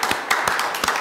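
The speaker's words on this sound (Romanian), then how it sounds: "Eu pot doar să te aplaud." Audience clapping on a television talk show stage, a burst of hand claps with several sharper strikes standing out over a steady wash of applause.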